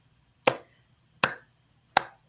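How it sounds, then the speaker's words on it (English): Three crisp single hand claps at the close of a guided morning meditation, evenly spaced about three-quarters of a second apart, close and fairly quiet, with silence between them. "Put your hands together and clap."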